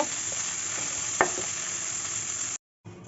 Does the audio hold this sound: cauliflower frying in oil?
yes